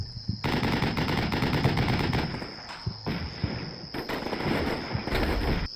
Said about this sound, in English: Their M2 striker spots the BTR in the field and engages,